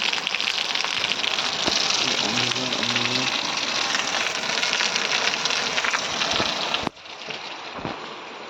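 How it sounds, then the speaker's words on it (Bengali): Steady rain falls around midnight as a dense, continuous hiss that holds level for about seven seconds, then drops abruptly to a softer, thinner patter. "বৃষ্টি চলেছে।"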